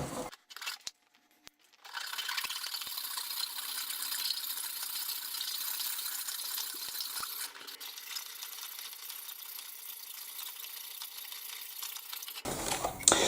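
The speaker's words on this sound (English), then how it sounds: "Looks like I'm going to be filing it." A hand file working the plastic body of a Bruder CAT telehandler model, heard as a steady, faint, hissing rasp of strokes lasting about ten seconds, with brief clicks and handling noises before and after.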